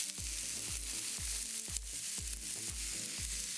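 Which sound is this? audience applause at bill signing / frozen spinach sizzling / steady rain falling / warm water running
frozen spinach sizzling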